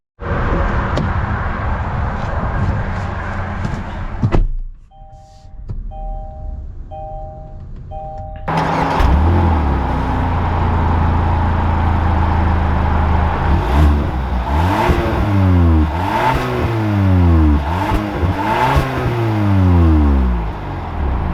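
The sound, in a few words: 2021 Kia K5 EX car driving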